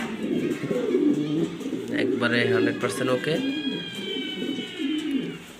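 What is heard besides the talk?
black exhibition pigeons cooing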